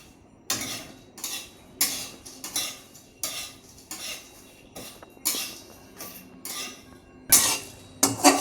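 Spices frying in a pan are stirred with a metal spoon, producing a rhythmic series of close, scraping clinks against the pan roughly every second over a low background.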